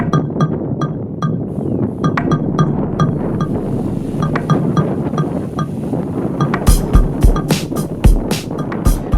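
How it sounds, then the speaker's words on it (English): Strong wind roars steadily across the microphone at a port, with clinks and knocks close by from a DJI Inspire drone on its first flight, growing sharper and louder near the end. "it was a very windy day at the port."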